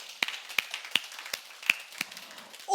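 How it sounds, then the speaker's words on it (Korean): A church congregation claps in slow, evenly spaced single claps, about seven in under three seconds, fairly faint against a quiet room. "하나님 앞에 영광의 박수 올립시다."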